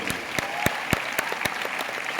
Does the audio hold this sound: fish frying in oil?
no